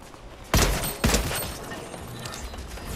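Rockets firing in the Fortnite video game: two sharp, heavy blasts about half a second apart, followed by a lingering rumble and distant crackle.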